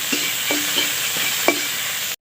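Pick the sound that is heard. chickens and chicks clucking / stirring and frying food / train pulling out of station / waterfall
stirring and frying food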